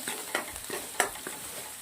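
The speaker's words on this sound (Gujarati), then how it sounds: "ડુંગળી અને લસણને સાતળી દેવાનું છે સરસ" Onion and garlic sauté in a pan with asafoetida, ginger-garlic paste and green chillies, a soft frying sizzle broken by a few quick spatula stirs, close and brief.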